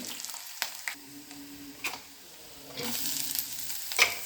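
Crushed garlic, curry leaves, three small dried chillies and chopped shallots sizzle in hot oil for a cabbage stir-fry, with a steady frying hiss that grows louder midway and a few stirring scrapes, no talking.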